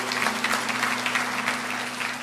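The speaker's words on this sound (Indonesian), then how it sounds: "kasih tepuk tangan untuk dia" A church congregation claps together during a sermon about evangelism, the applause steady and moderately loud across the whole stretch, with a faint steady hum beneath it.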